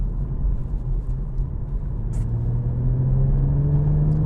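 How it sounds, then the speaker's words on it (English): A car engine hums steadily from inside the vehicle in third gear, its pitch slowly rising as it accelerates under constant throttle through a long, fast right-hand corner. "Keeping the gas on in third gear all the way around this nice long quick right-hander"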